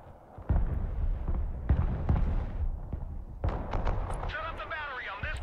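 Artillery fire in the video game Broken Arrow: a run of deep, heavy thumps and booms at irregular intervals, fairly close and loud, followed by sharper cracks and some higher whistling and chirping effects toward the end.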